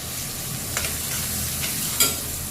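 Garlic cloves roasting in hot oil in a pan for a spinach gravy dish, giving a dense, even crackling sizzle up close, with a couple of light utensil taps and no voices.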